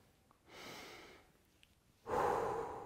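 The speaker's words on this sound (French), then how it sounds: "Et respirer avec le ventre." Slow, deep belly breathing during a relaxation exercise: two soft airy breaths, the second fuller and louder, with quiet pauses between.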